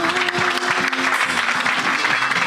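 A church audience claps steadily and densely in loud, close applause to acclaim Jesus, with a faint sustained tone underneath throughout.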